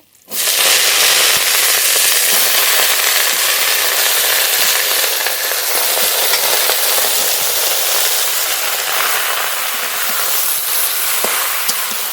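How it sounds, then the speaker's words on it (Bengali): Loud, steady sizzling of garlic frying in hot oil, dense crackle running unbroken from start to finish. "রসুনটা একটু ভাজা ভাজা করে নেব"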